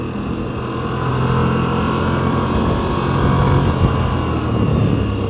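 A 2024 Moto Guzzi V85 Strada motorcycle riding along a grassy road, its engine droning steadily and loudly with constant wind and road noise throughout, no talking.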